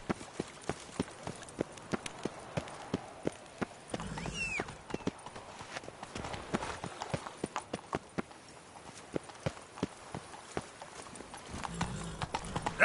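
Roach the horse trotting in The Witcher 3, hooves clip-clopping in a steady, evenly spaced rhythm, fairly faint and continuous over quiet ambience.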